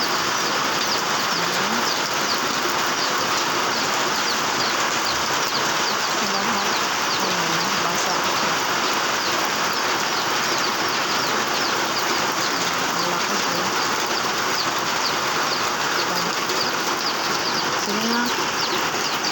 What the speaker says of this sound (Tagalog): Ang lakas ng ulan dito sobra.